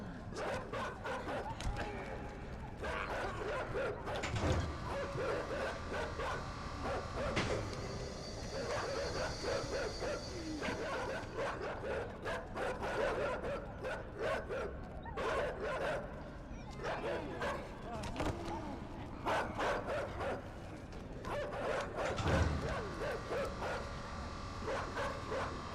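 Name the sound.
dogs barking in the video game Inside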